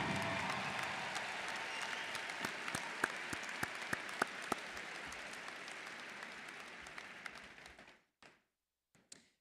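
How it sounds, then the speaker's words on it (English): Sustained applause from a crowd at a university class ring ceremony, steady for about eight seconds with a few sharper claps near the front before it fades out abruptly, leaving a couple of stray claps. "let's give these guys a round of applause for what they're going to do for you"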